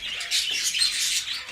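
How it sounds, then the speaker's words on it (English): Two male canaries singing close by, a continuous high bright warble of rapid chirps and trills with no other sound. "These are some of our canaries. We have 2 males in here that just sing amazingly."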